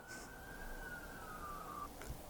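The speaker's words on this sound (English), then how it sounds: "there's a siren in the back, isn't there?" A faint siren wails in the distance on trails near Squamish, a single long tone slowly drifting in pitch against quiet background noise.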